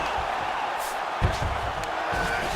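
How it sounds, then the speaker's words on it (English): A packed arena crowd roars and cheers during a UFC bout between Paddy Pimblett and Arman Tsarukyan as the fighters rise from the mat; a loud, steady wall of crowd noise with a brief swell partway through. "huge pop from the crowd as the fighters get back up to their feet"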